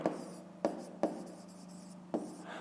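A pen writes on paper during a fifth-grade maths exercise, with soft scratching strokes and several distinct taps as it touches down, close and quiet.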